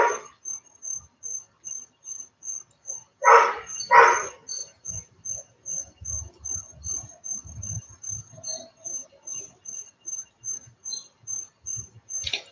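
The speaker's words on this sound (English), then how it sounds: "that's my neighbor's dog" A neighbor's dog barks twice in quick succession outdoors at night, a little distant, against a steady chirping of crickets and scattered low rustling.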